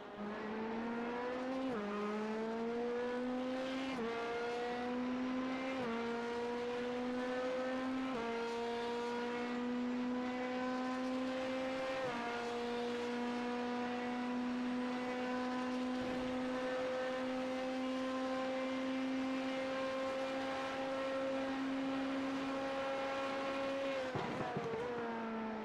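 An onboard race car engine screams in a NASCAR IMSA series racing video game at Daytona Road, a loud sustained high-revving drone that climbs through the gears with several sharp shift drops, heard alone.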